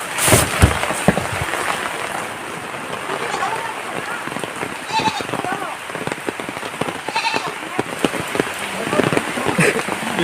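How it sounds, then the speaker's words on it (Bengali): Heavy morning rain pours steadily outdoors, a dense broadband hiss with scattered louder drops and patters, plus a few faint background sounds such as a distant bleat. "সকাল থেকেই প্রচণ্ড বৃষ্টি"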